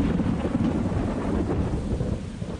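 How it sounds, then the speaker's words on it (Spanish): Thunder rumbles in a children's story about storms, a loud, dense, continuous roll mixed with rain-like hiss, with no voices. "los truenos"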